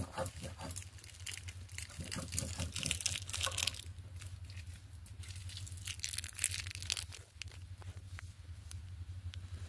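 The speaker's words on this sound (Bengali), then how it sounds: "এখন অল্প একটু আদা বেটে নিচ্ছি" Ginger ground on a grinding stone in a Bengali home kitchen while hilsa fish is cooked, a continuous gritty rubbing and crushing with repeated strokes, close and fairly quiet over a low steady hum.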